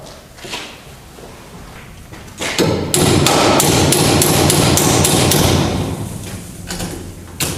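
Loud, rapid hammer strikes ring out in a steady burst, close and sharp, with a few scattered knocks before and after.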